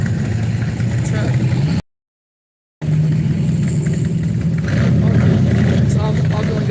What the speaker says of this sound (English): Jeep sounds good